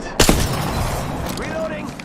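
A sharp burst of gunfire from the video game Apex Legends cracks out near the start, followed by rumbling game effects and brief tonal sounds, with a voice present.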